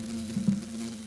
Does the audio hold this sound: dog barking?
no